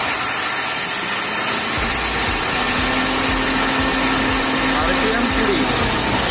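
A Tata BS4 pickup engine idles with a steady, rhythmic low thrum after its RPM wire was repaired, a faint whine running through part of it, close up and continuous with no talk over it.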